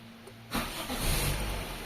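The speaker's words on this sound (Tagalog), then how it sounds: "Start natin yung makina." A car engine cranks and catches in a workshop before an air-conditioning check, a sudden loud start after a quiet stretch, then settling into a steady running rumble.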